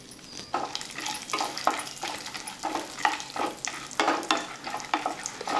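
Walnuts, pumpkin seeds, sunflower seeds and pistachios fry in a pan for sheer kurma, a faint sizzle broken by regular rhythmic scrapes and rattles of stirring, about one every half second.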